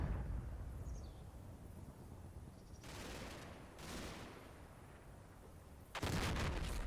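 Explosions from the WWII tactical game Combat Mission: Battle for Normandy boom out in a steady rumble of distant gunfire, with one blast near three seconds, another near four and a loud, sharp burst at the end.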